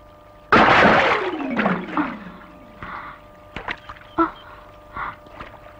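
A person jumps into water in a comedy scene with a loud, close splash that surges and slowly fades, followed by a few softer sloshes and drips.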